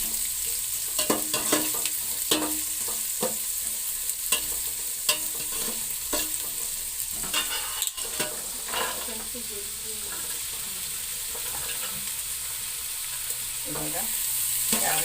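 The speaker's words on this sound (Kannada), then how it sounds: "ಈರುಳ್ಳಿ ಹಾಕ್ತಾ ಇದ್ದೀನಿ. ಅದನ್ನು ಸ್ವಲ್ಪ ಉರಿತಾ ಇದ್ದೀನಿ." Sliced onions for pulao fry in a pan with a constant close sizzle, and frequent sharp spatula scrapes and taps come in irregular bursts throughout.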